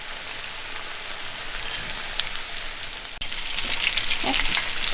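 Speckled trout fillets coated in panko crumbs fry in hot oil, giving a loud, continuous crackling sizzle that swells briefly after a short break, with no talking.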